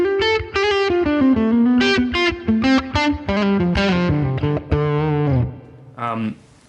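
Electric guitar played through a Fender Bassman amp model on a Line 6 Helix, breaking up with a raw, gritty overdrive. A short melodic phrase of sustained, distorted notes plays alone and up close, then ends in a brief final note.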